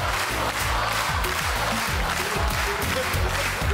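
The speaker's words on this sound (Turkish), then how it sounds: "Ben alkışlarla Kırmızı Oda'yı uğurluyorum onu." A studio audience on a Turkish dance competition show applauds and cheers as a guest is sent off, with dense clapping under loud rhythmic music and crowd shouts.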